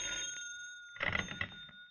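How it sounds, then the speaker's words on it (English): A telephone bell rings in an old-time radio drama, a short burst of ringing partway through over a steady electronic hum, with no talking. "you're groping for a solution when the phone rings."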